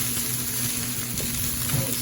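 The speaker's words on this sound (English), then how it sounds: "So now we put in the meat. And just about stirring about like a minute or so." Meat for fried rice sizzling in a wok while being stirred, a steady moderate frying hiss with light scraping under a low background hum.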